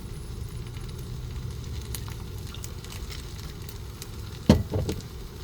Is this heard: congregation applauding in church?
no